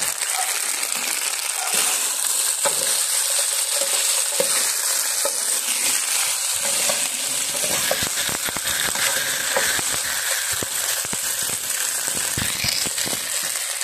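Food frying and sizzling steadily in a pan as it is stirred, a continuous close crackle with scraping strokes running throughout and no talk.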